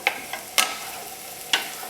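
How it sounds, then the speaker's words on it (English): Mushrooms sauté in melted butter and walnut oil, a soft steady sizzle punctuated by three sharp tossing clatters of utensil against pan. "Now toss well until the mushrooms are well coated with the butter and oil."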